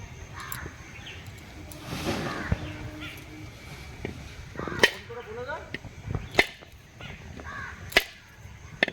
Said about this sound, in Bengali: নারকেলটা এবার ফাটিয়ে নিচ্ছি।